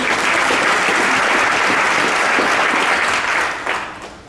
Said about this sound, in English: let's give the Lord one more hand clap of praise